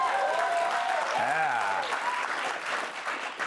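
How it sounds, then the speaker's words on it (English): Audience applause greeting the unveiling of a brand new Air Force One jet on a live comedy talk show, steady clapping throughout with a brief gliding tonal sound and voices partly over it. "Round of applause."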